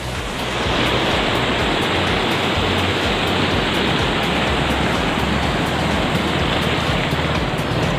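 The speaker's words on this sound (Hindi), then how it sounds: "वो डैम के दरवाज़ों की वजह से ऐसा पानी आता है" A loud, continuous roar of water rushing out through dam gates at Pawna Lake, broad and steady like a waterfall, with no voices.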